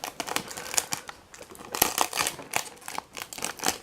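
Packing tape on a Queen of Hearts figurine's box is pulled and peeled away in a run of close, crackly tearing and crinkling bursts, some sharp, some longer, with brief pauses between.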